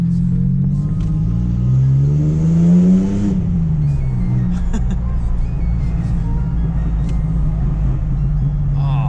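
Ford Ranger truck engine revving up hard from idle, pitch rising over a few seconds then dropping back to a loud rumbling idle, close by inside the cab.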